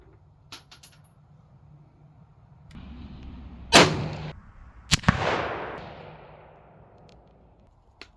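Deer rifle fired while sighting in at a range: a few sharp, loud single shots with a short echoing decay, separated by quiet outdoor background.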